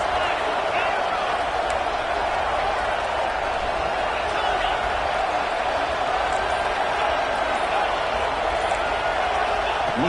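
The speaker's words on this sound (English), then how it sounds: "the crowd really getting into it" Stadium crowd at a college football game, Alabama at Oregon, roars in a steady, dense wash of cheering and noise with no letup, with a commentator's voice talking over it.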